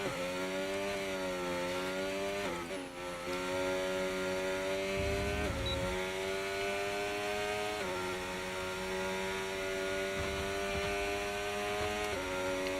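Formula 1 car engine in the F1 25 video game lapping Zandvoort, a high, steady revving whine climbing through the gears with several distinct upshift drops, loud and continuous with no talk over it.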